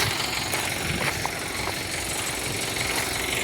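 A Swaraj tractor engine rumbles steadily at a low, even idle for several seconds. It is moderately loud and there is no talk over it.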